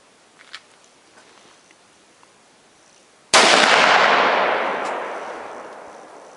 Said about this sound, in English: this is the first shot with it. It's 270 Winchester, Topas center compass.